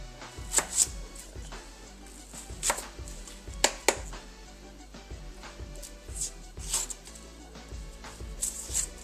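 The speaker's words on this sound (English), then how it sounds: "First what we're going to do is cut an onion." A sharp knife chops half an onion on a cutting board for ackee and saltfish, giving a steady run of crisp, close knocks at an irregular pace, with a few louder strikes and no talking.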